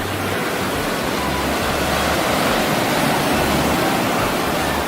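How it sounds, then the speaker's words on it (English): Strong ocean waves surging and crashing onto a beach, a loud continuous roar of surf filling the whole stretch without a break and with no voices over it. "These waves are really coming in strong."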